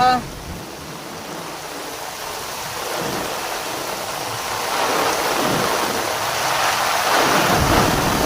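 Heavy rain pours down in a dense, continuous roar, gusting wind swells it louder, and low thunder rumbles beneath the downpour.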